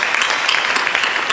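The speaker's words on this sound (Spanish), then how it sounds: "Un aplauso a las raíces y a los abuelos." An audience at a Peruvian-Japanese storytelling festival claps briefly and loudly, with close, crisp individual hand claps in a fast, uneven patter.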